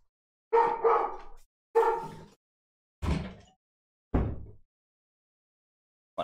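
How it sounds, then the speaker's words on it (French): Dogs bark indoors in four separate loud woofs spaced about a second apart, each with a short echoing tail, followed by the start of another bark and quiet gaps between. "Désolé pour les bruits de chiens."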